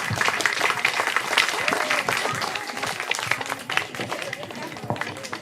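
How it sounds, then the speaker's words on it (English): An audience claps to welcome a guest on stage at a festival event. The clapping is dense and continuous, with scattered cheers and voices mixed in. "I request all of you to welcome her with a big round of applause."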